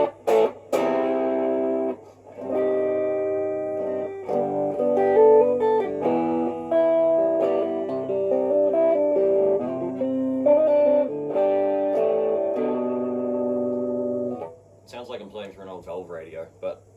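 An electric guitar plays sustained chords and melodic phrases through a JOY-O Zip fuzz effects pedal, with a clean-edged, in-your-face tone and pauses between phrases, and a voice speaks briefly near the end.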